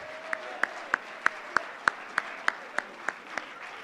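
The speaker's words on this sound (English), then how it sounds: "let's get a round of applause for those sports" A school sports awards audience applauds for fall varsity teams, a moderate, steady patter of about a dozen sharp, evenly spaced claps from a few people in a hall, with no talk.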